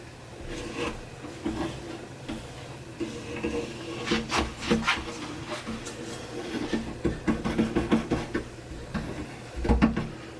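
A hand scraper rasps across a French polish finish in quick repeated strokes, a dry scratchy rubbing that swells and fades in bursts, close up with no talking.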